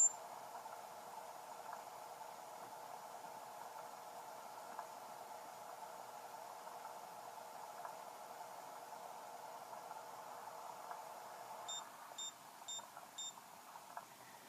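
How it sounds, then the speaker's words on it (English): A steady low electric hum of a microwave in Animal Crossing on 3DS runs for a long stretch, then four quick high beeps sound near the end, faint and evenly spaced. "that's the sound of the microwave, and then beeping when it's finished"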